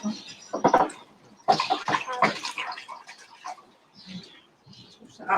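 Running water rinses out a mixing bowl in a home kitchen while making onion chutney, with intermittent splashing and clinking under talk between an adult and a child.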